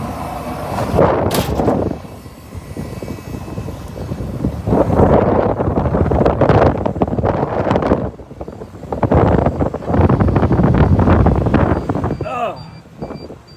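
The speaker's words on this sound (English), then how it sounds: "it is so ridiculously windy out here" Loud gusting wind buffets the microphone in broad roaring bursts on a Fenland farm, with a person talking underneath and brief lulls between gusts.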